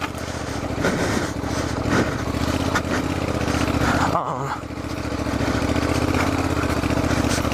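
Honda NC700XD DCT motorcycle ridden off-road on mountain trails, its engine droning steadily and close throughout with a brief dip partway, under wind and trail noise.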